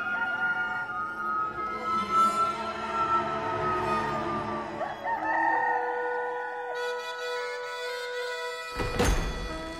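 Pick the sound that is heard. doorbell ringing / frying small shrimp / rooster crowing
rooster crowing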